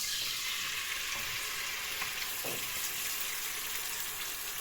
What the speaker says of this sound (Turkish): Şimdi benim de yağım eridi. Hemen aradan domatesi koyayım.